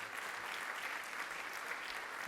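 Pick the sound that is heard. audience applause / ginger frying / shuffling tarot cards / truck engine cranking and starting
audience applause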